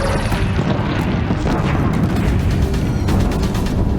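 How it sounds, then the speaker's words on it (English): Deathbringer war machines firing in the Horizon Zero Dawn video game, a steady, loud barrage of booming blasts and rumble that continues without a break. "If the Deathbringers keep firing, this bridge will go."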